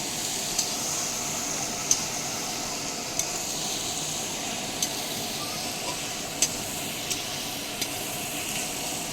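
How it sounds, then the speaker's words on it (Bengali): Onions frying in salt in a pan before tomatoes are added, for a fish curry: a steady soft sizzle and hiss with light scraping taps of stirring at intervals, no talk over it. "পেঁয়াজ দিয়ে দিয়েছি, আর নুন দিয়ে ভাজবো।"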